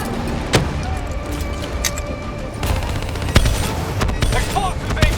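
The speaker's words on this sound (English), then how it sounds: "Hit them with the swarm launcher!" Call of Duty: Black Ops 3 combat: a swarm launcher and rapid gunfire with loud explosive booms crackle continuously at high volume, with shouted voices mixed in.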